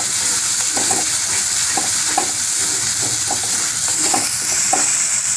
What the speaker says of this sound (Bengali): পোস্ত বাটা দিয়ে একটু নাড়িয়ে নিই।